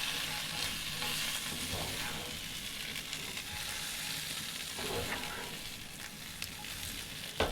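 Food sizzles and toasts in a pan on a Coleman 5466A propane stove, a steady crackling fry at low level with occasional small clinks and stirring sounds.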